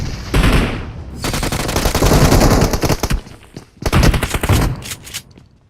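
Loud, rapid bursts of automatic gunfire from a video game, long rattling volleys separated by brief pauses, close and dominant.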